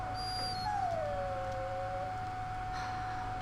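A warhound dog in the video game Dragon Age: Origins gives a drawn-out, falling whine, a single clear whimper over a steady background hum, with no talk during it.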